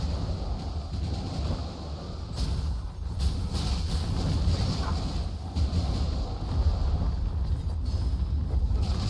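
A wind skill effect from the video game Naraka: Bladepoint makes a continuous rushing, whooshing roar. It holds fairly steady and loud for several seconds, with a few brief bright swells and no speech.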